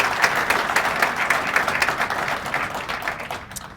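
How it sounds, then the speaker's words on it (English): Sustained applause from an audience at a police awards ceremony, a dense steady patter of many hands clapping that fades slightly toward the end. "Give him another round of applause."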